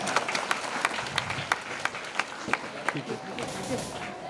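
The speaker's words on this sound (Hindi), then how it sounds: "एक बार जोरदार तालियां हो जाए पूरे परिवार के लिए।" Loud crowd applause with sharp claps, steady throughout, while a voice talks over it, at a ceremony honouring ex-servicemen and martyrs.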